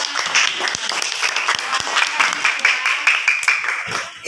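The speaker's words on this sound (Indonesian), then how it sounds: "Tepuk tangan buat Rizky" Children in a fifth-grade classroom clap for a classmate, a short burst of lively, uneven applause with voices mixed in.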